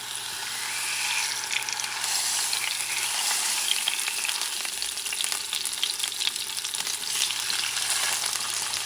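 Beef cube steaks sizzle and fry in hot oil in a pan, a steady close crackle with no talking.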